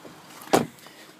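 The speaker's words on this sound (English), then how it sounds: "And then to close the tailgate, just hit that button there." The power tailgate of a 2008 Volvo V70 wagon shuts with one brief, solid mechanical clunk, close by, set against near-silence before and after.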